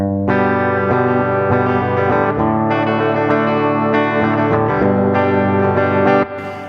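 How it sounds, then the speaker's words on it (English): Loud, close Epiphone Les Paul electric guitar chords with a clean, ringing tone, played in a steady sequence without any talking. "That's a nice clean tone."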